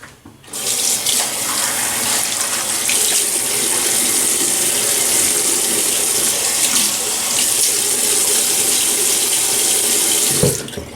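Tap water runs steadily into a sink for about ten seconds as a man wets his face to shave off six days of stubble, a close, even rushing gush that stops abruptly near the end.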